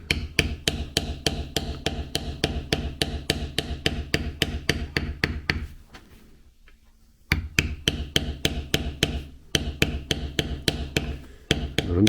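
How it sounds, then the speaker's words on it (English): A beveler tool is struck steadily with a hammer on leather, a long run of sharp, evenly spaced taps with one brief pause partway through. The strikes are close and loud, with no voices. "I'm not beveling hard to the points of these."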